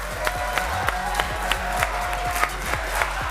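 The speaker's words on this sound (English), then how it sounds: "A huge round of applause for our runner-up team that really gave us a great show" A tournament audience at Splatoon 3 Oktofest finals applauds the runner-up team, with dense clapping and crowd cheering punctuated by rhythmic accents, a faint voice underneath.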